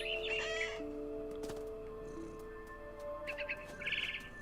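Bird calls and cawing chirps in bursts at the start and end, over a steady humming backdrop in the video game What Remains of Edith Finch, with a faint thump in between.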